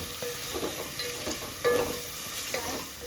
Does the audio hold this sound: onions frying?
yes